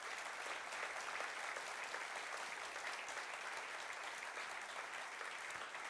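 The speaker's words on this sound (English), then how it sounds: "Please give a round of applause to this most powerful lady." Steady applause from a conference audience fills the whole stretch, a dense, even wash of many hands clapping at moderate distance with no voices over it.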